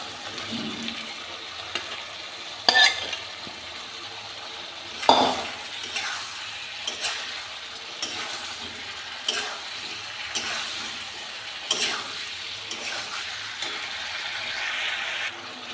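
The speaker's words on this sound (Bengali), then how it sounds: "চিকেনটা ততক্ষণ কষাতে থাকি" Fried chicken sizzling and being stirred into cooked-down spice masala in a pan, continuous frying hiss broken by scraping spatula strokes and occasional clinks, with no talking.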